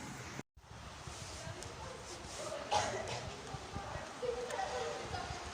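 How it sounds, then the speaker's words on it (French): Horses being led across ground to a riding arena, with faint irregular hoof clops and rustling under nearby chatter during a stormy day. "on a emmené les chevaux au manège"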